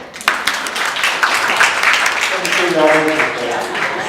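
An audience breaks into clapping after an abrupt start, a brief burst of hands that overlaps with a speaking voice and fades under continued talk toward the end.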